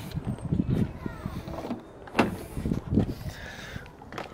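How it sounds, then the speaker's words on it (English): A car door is opened during a boot LED install, heard as a few clunks and clicks of the latch and panel, close by, with soft handling noises in between. "So if I open the door"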